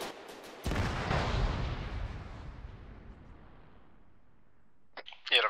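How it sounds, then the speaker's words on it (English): Warning gunshots in a video game, a sharp crack followed by a long rolling echo that decays over several seconds, with a few softer pops and a brief voice near the end. "Warning shots."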